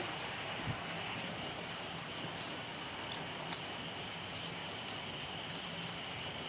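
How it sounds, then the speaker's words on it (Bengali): Steady rain falling, a continuous hiss of drops at low to moderate level with a few scattered louder splashes and no talk. "আমাদের এখানে বৃষ্টি হচ্ছে"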